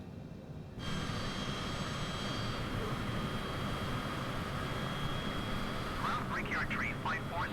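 An airliner's engines on the ground in Microsoft Flight Simulator 2020, readying for takeoff at Newark airport: a steady, loud engine whine and roar with a sustained tonal hum, close and unbroken, joined near the end by a brief warbling sound.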